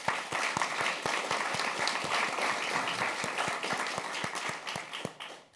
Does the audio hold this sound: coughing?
no